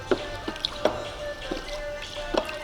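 Dirty flushing water, loosened by cleaning chemicals and old sealant, drains and drips from a car's cooling system: sparse, faint, irregular drips and small splashes against a quiet background.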